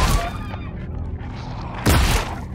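Gunfire from a weapon in the horror video game Scorn: a heavy blast opens the moment and a second loud shot lands near the end, separated by a dim, rumbling ambience.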